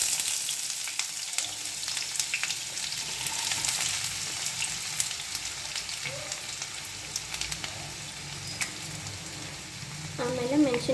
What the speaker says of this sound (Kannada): ಈಗ ಆಯಿಲ್ ಕಾಯ್ದಿದೆ, ನಾವು ಈರುಳ್ಳಿ ಹಾಕ್ಕೊಳ್ಳೋಣ.